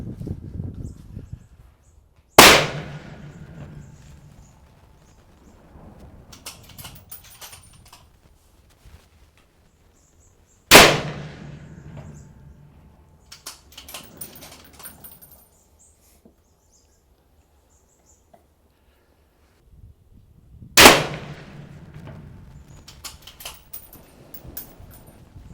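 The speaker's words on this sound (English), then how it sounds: "We'll shoot another 3-shot group" Three single rifle shots fired through an Aimpoint optic at a range, each a sharp loud crack with a short decaying echo, spaced about eight to ten seconds apart with quiet handling noise between.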